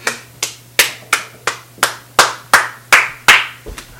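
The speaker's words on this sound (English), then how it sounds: "Can you clap, please?" Someone claps their hands to switch on a clap-activated light, ten sharp, close, loud claps in a steady rhythm with no talking.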